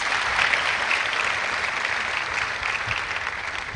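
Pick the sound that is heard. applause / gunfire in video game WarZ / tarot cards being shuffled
applause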